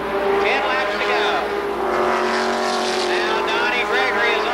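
Race cars roar around the oval at Columbus Motor Speedway, several engines whining and sweeping past in overlapping Doppler swells, loud and continuous beneath a commentator's voice calling the action.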